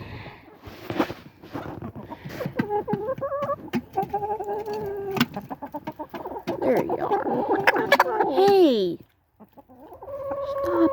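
Backyard chickens cluck and squawk busily while being fed at a family home, with close, excited calls and a few rising squawks, and a person speaks briefly to them between the bird sounds.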